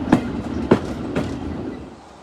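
A diesel train on the Swanage Railway rolls toward Corfe Castle, its wheels striking rail joints in three evenly spaced, sharp clacks over a steady low rumble that gradually fades.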